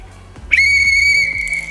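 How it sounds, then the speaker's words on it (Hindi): A single shrill whistle blast from a toy police whistle starts abruptly and holds steady for over a second, loud and close, then cuts off. "चलिए एक बार इसकी विजिल मारते हैं।"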